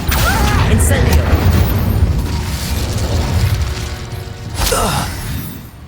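A fire spell cast in a Harry Potter–style video game: dense low rumbling bursts and crackle fill the whole span, with a sharp whooshing flare near the end, all loud and close.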